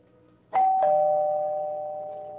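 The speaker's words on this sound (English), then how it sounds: "It's the doorbell ring" A doorbell rings its two-note ding-dong once, clear and close, the tones lingering and fading slowly in a quiet room.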